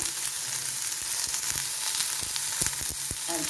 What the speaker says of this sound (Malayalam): രണ്ട് വെളുത്തുള്ളി ഇട്ടു ഇനി അല്പം കറിവേപ്പില ഇട്ട് കൊടുക്കാം